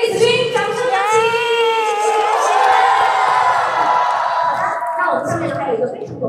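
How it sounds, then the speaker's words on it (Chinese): A crowd cheers and whoops for the winners of a game round at a livestreamed event, with high shouting voices rising together in a loud, sustained burst that tapers off near the end. "掌声有请！"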